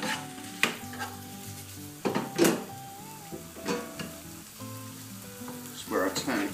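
Noodles frying in a pan are stirred with a utensil, with a loud sizzle and irregular scrapes and clatters against the pan, and faint tonal sounds in the background.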